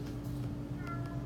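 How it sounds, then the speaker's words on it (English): A cat gives a short, faint meow over a steady low hum in the room. "you probably heard my wonderful cat Clive meow at you"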